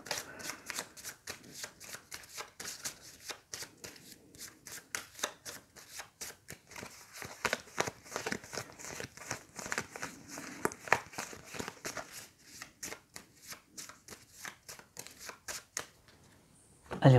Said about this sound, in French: Hop, on remélange, on tire une carte.